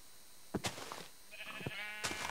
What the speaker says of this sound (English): I'm just up here killing sheep.